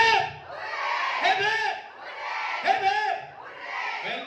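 Crowd of guests at a Women's Day celebration in a hotel courtyard letting out a rhythmic series of loud, close hurrah shouts, voices rising together in repeated swells.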